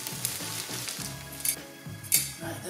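Frozen vegetables sizzle and crackle in a hot pan with leftover pulled pork, with steady frying hiss broken by a few stirring scrapes and sharper spits, close and fairly loud.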